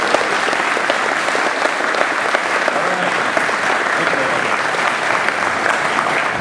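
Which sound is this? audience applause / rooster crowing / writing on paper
audience applause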